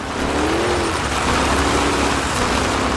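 El Toro Loco monster truck engine roaring during an arena freestyle run, loud and continuous with a rising and falling rev tone as the truck lands and heads into another jump.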